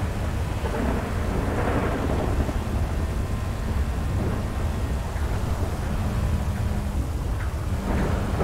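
Thunderstorm with steady heavy rain in a video game, a continuous loud wash of rainfall with low rumbling thunder rolling throughout, no voices.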